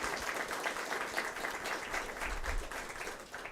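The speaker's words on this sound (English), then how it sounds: "for which he needs a very big round of applause" A lecture audience applauds a visiting High Court judge, a dense, steady patter of many hands clapping at moderate distance, sustained without a break and slightly hushed in level.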